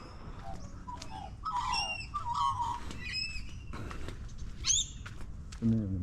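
Several birds chirp and trill outdoors, bursts of varied whistled calls coming in quick succession, with low background rumble.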